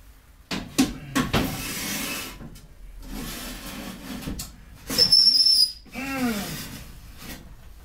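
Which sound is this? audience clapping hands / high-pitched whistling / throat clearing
high-pitched whistling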